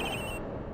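A cell phone rings inside a locker in the video game Ace Attorney Investigations, a steady electronic ringtone that is fairly faint and continuous, with no talk over it.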